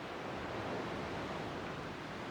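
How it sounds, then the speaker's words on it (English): Steady ocean waves and surf wash in a continuous broadband rush at an even level, with no breaks and no voices over them. "you can still hear the ocean"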